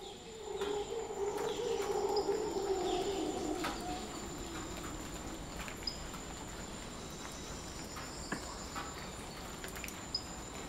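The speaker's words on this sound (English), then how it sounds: "Little light rain, bugs, birds, and monkeys." A morning forest ambience in Costa Rica: light rain patter, a steady insect hum, cooing doves, scattered bird calls and monkeys, with a louder burst of calls early on.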